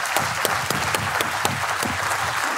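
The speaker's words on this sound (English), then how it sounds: "a big round of applause" An audience claps to welcome speaker Max Musicant at a 2022 design event, a brisk, even patter of many hands with a few sharper individual claps standing out.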